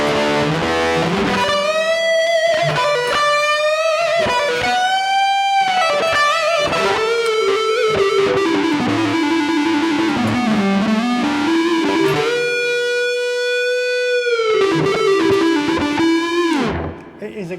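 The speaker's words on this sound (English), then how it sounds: "I'm using the Boss eBand JS-10, which has the Boss GT100 effects processor built into it" An electric guitar played through a Boss eBand JS-10 with built-in GT-100 effects gives a distorted rock tone, with a loud, continuous run of sustained, bending notes and phrases from start to finish.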